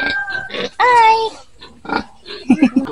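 A group of piglets grunting at a farm in Leyte, a few short low grunts near the end, heard under close voices talking.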